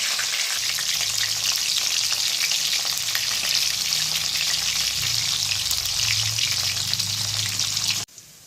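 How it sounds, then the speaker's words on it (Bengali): Stuffed pointed gourds fry in oil in a pan, a loud, dense and continuous close sizzle with a faint low hum beneath that cuts off abruptly near the end. "এখন পুর ভরে তারপরে আরেকবার ভেজে নিচ্ছি"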